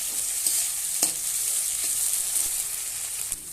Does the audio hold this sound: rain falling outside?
no